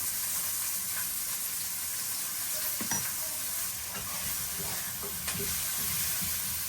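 Potatoes with cumin and salt fry in hot oil in a pan, a steady close sizzle and hiss broken by occasional scraping stirs, fairly quiet, with no one talking.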